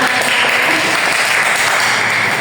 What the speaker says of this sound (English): give applause to Alma.